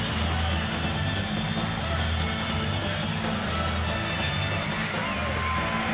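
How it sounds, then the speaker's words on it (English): A boxing-arena crowd cheers as Tommy Morrison makes his ring entrance before his fight with Marshall Tillman. The roar is loud and continuous, with a low rumble underneath. "And the cheers starting to mount from the crowd."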